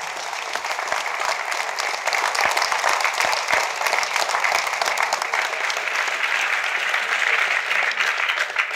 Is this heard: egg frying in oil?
no